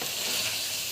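Masala with ginger garlic paste sizzles loudly in a pan while being stirred, a dense, continuous close-up frying hiss for about a second with no voices.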